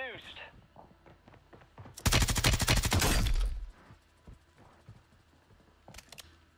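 Rapid automatic gunfire in the Warzone 3 video game, a loud sustained burst of about a second and a half standing out over quieter game sounds and scattered clicks.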